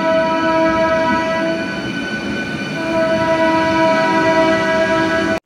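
A local train runs at Baruipara station on the Howrah chord line, a loud, continuous rumble with sustained horn-like tones swelling and easing, heard close by with no talking.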